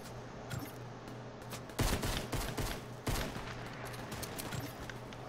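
Pistol fire in a competitive shooter video game, a rapid run of loud shots at close range, with stronger reports around the middle of the stretch and no voices.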